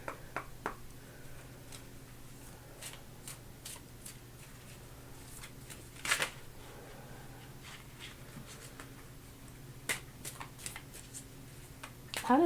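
Tarot cards are handled and shuffled at close range, giving soft papery riffles and scattered light taps against a quiet room background, with a louder flurry midway.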